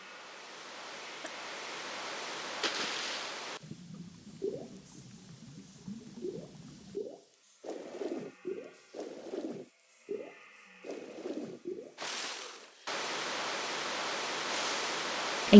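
A rushing waterfall in the Natla's Mines level of Tomb Raider gives a loud, steady hiss of falling water at the start and end, with quieter, choppier game sounds between.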